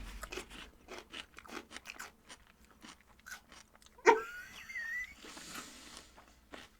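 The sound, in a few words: crunching celery with cottage cheese and mustard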